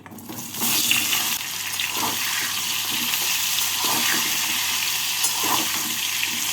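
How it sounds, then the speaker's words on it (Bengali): Pointed gourd (potol) frying in hot oil seasoned with salt and turmeric, a continuous loud sizzle and hiss close up with occasional stirring clatter. "প্রথমে পটলগুলোকে ভেজে নিচ্ছি"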